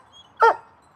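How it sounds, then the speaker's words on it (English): A dog gives one short, close bark, mixed with a whimpering yip, in an otherwise quiet room. "Who you barking at there, buddy boy?"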